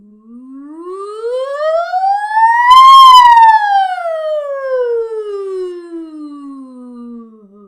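A single voice imitates a siren, sliding smoothly up to a high peak and then gliding back down in one long, steady sweep.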